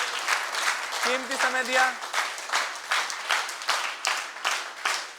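Enthusiastic applause from a crowd at a yoga workshop held at Babu Lal Jain Inter College in Aligarh, steady dense clapping throughout with a short burst of speech and a brief tonal sound mixed in near the start.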